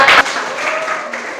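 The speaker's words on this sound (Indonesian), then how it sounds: "Tepuk tangan untuk Mbak Wahyu." Students in a computer and informatics classroom clap briefly for a classmate, a short burst of applause at the start that quickly fades into a quiet room.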